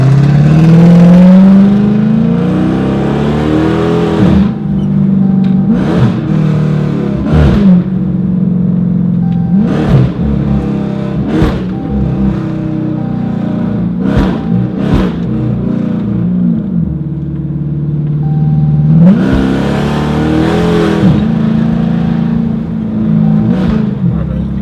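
An SRT Viper sports car accelerates hard on city streets, its engine roaring loudly and steadily with rising and falling revs and repeated shifts, close and dominant throughout.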